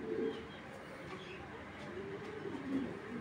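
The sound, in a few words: racing club pigeon cooing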